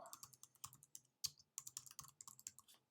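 Quick, irregular keystrokes on a computer keyboard while a new assignment is entered into an electronic health record, faint and close, with no talking.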